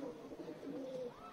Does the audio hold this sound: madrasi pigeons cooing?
yes